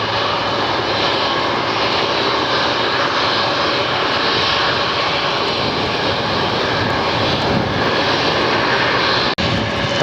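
Spirit Airlines jet engines roar steadily at FLL airport, a loud, continuous broadband rumble that holds for the full stretch with no talk.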